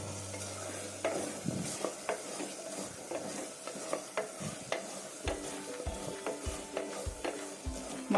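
Slit boiled eggs frying in masala for egg biryani in a pressure cooker, with a constant sizzle and rhythmic stirring scrapes and knocks of a spoon against the pot throughout.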